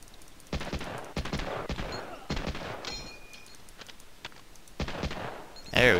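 Gunfire in Medal of Honor: Allied Assault, a World War II shooter: several sharp shots and short bursts at a moderate distance, spaced irregularly across the scene, with a louder blast at the end.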